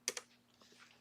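A few keystrokes tap on a computer keyboard that is having problems, two quick close clicks then a pause before another single click, quiet and alone.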